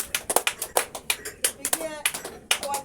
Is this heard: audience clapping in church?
yes